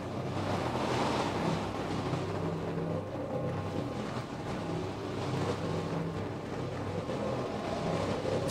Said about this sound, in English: It's pretty windy. The wind pushes against you pretty good.